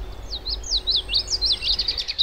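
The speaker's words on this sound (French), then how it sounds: "Le concert permanent est assuré par les chants des oiseaux, qui s'entrecroisent pour le plaisir de nos oreilles." A single bird sings a fast, bright run of repeated chirping notes in a forest, clear and fairly close, over a soft low outdoor rumble.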